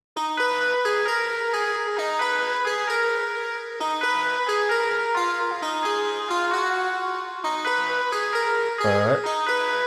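Three stacked synth lead presets in FL Studio play a bright, harmonically rich melodic line together, steady notes and a quick pitch bend near the end, alone without talk.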